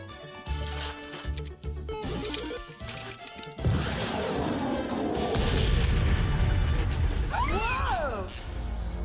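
Blast from a cartoon atomic spud gun in the Captain N: The Game Master episode set on Metroid, a loud sudden boom that cuts into the music and is followed by sustained roaring, crashing noise and descending whistling tones.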